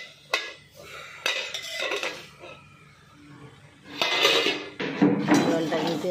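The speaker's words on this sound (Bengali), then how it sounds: "এবারে আমি ঢাকনাটা খুলে নিচ্ছি।" A lid comes off a metal wok, and pots and utensils clatter and clink in several sharp bursts close by in a home kitchen.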